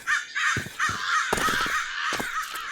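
Crows caw loudly and repeatedly at close range, their harsh calls coming in irregular bursts over a steady background hiss.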